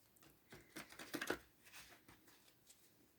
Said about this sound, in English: let's get our cards shuffled